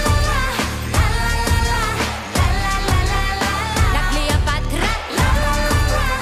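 Azerbaijan's Eurovision 2020 entry playing loud, a dense pop production with driving beat and sung vocals throughout.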